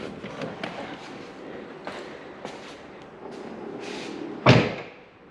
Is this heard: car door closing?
yes